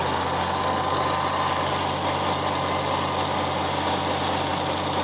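A sputtering tractor engine chugs nearby during baling, with a steady low rumble and rough, uneven firing, running on with no pauses and no voices.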